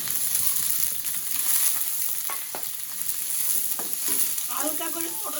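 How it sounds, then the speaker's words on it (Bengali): Onions frying in a pan with a steady, close sizzle that runs throughout, broken by a few faint scrapes of stirring. "এই দেখেন পেঁয়াজ প্রায় ভাজি হয়ে গেছে"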